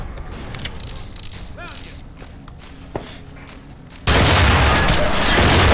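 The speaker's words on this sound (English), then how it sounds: "Pretty much all of them have shotguns." Shotgun blasts and footsteps in the video game Underhell: a few sharp booms and thuds, then a sudden loud, sustained burst of noise, with faint talk in between.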